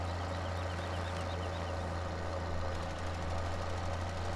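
A John Deere 6R tractor engine in Farming Simulator 17 running at a steady drone, with a constant low hum and a faint knocking rhythm that holds unchanged throughout.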